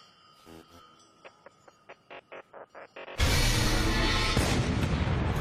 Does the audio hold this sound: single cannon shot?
yes